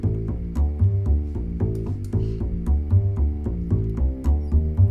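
A double bass plays a walking line in jazz swing with steady, even quarter-note steps. It sits low and warm with soft plucked attacks under a band texture, and there is no talking.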